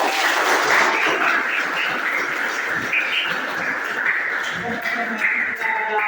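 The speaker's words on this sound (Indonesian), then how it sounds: "Mari kita beri aplaus untuk masing-masing kelompok." Classroom group of students applauding together at the close of a lesson, a dense steady burst of clapping holding for several seconds, loud and close, with some voices mixed in.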